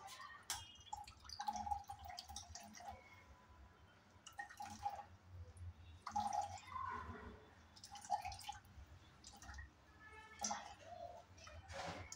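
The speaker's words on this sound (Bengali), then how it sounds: "এখন এই চামিচটা দিয়ে বাকি জুসটা আমি চিপে চিপে বের করে নেব।" Amla juice is pressed out with a spoon, giving soft irregular drips and wet squishes, close but faint, repeating every second or two over a quiet background.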